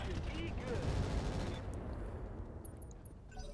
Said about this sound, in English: Let's crank up these machine guns.